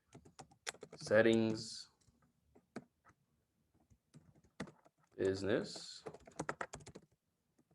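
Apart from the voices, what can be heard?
typing on a computer keyboard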